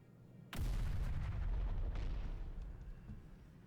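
A turret opens fire in the Sandbox Uprising mod: a sudden loud, booming blast at about half a second, then a sustained rumbling roar of heavy gunfire that slowly fades over the next few seconds, with no talk.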